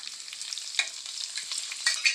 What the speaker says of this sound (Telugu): మినపప్పు కూడా ఫ్రై అవ్వాలి మంచిగా ఇలా చెక్ చేసుకుంటూ ఉండాలి